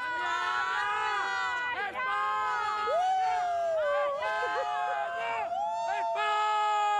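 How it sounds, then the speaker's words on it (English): A large hockey crowd at a junior world cup match in Lucknow cheers and chants for Spain, loud sustained massed voices with rising and falling shouts and whistle-like tones, dense and continuous throughout. "the chant is for Spain, but they'll have to match the loud Indian crowd as well"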